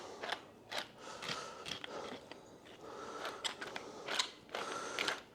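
A worn pepper grinder that is wearing out grinds pepper in short, faint bursts of gritty, ratcheting crunches.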